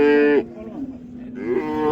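Cattle at a livestock market in Qarshi moo close by, a loud drawn-out bellow that dips in the middle and swells again, with no voices over it.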